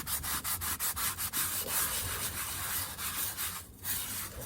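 Coarse and fine salt crystals scrubbed around inside a cast iron skillet, a steady gritty rubbing in quick repeated back-and-forth strokes, close and fairly quiet.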